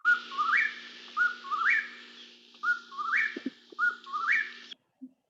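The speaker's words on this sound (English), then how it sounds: "The whippoorwill, which I've since heard here in King County." Four clear, repeated whistled phrases from a whippoorwill at dusk, each rising sharply at its end, evenly spaced and loud against a quiet background with a faint steady hum beneath.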